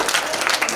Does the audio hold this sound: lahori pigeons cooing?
no